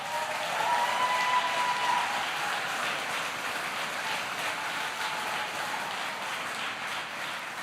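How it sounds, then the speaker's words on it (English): Sustained applause fills a hall as Alabama Lockheed Martin workers are honored at a presidential event. The clapping is dense and steady, heard from some distance with no voices over it. "They deserve a round of applause."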